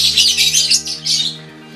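A lovebird chirps and squawks in quick, loud, close bursts, a rapid string of sharp calls over a faint electrical hum.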